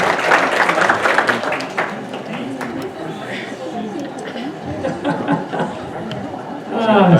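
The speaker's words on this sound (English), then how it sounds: "Round of applause" Dinner guests clap after a shared meal, a burst of applause mixed with cheerful chatter and voices that continues as the clapping thins, with a fresh swell near the end.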